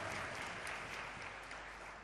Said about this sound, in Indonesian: Tepuk tangan dong untuk regu A dan regu B supaya lebih bersemangat.